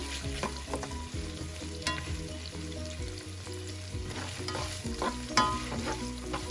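Four mashed fresh garlic cloves fry to light brown alongside chicken in a pan, sizzling steadily while a utensil clinks and scrapes in a busy, irregular stirring rhythm, close and moderately loud, with no voices.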